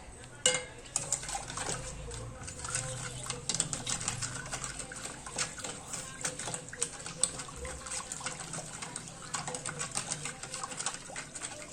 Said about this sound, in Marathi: हे बघा किती छान फेटते